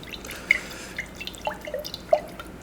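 Water is added to pizza sauce as a few separate drips and small splashes fall into the liquid one at a time, close and fairly quiet against a soft background hiss.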